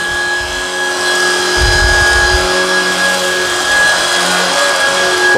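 Shark Vertex cordless vacuum running on carpet with the brush roll on high, a close, loud and steady motor whine with a brief low rumbling thump partway through, no voices.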